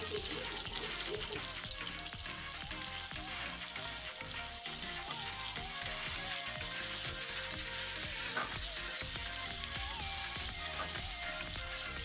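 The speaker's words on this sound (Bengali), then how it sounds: "এখানে যে সরু সরু করে আমি 4টে পেঁয়াজ কেটে নিয়েছি, ওই তেলে ভেজে নেব।" Four thinly sliced onions fry in hot oil in a pan, just after potatoes were fried, giving a steady, continuous sizzle that stays even and close throughout with no talking.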